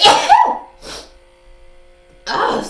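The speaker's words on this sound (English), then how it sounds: "oh, that's gonna make me sneeze" A woman's single sneeze burst, close and loud, followed by a brief breathy exhale and then another short vocal burst after a pause, indoors during an at-home facial routine.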